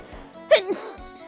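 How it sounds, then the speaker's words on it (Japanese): A single sharp, close sneeze bursts out in a quiet room, followed by a short trailing breath. "すいません、くしゃみ出ました。"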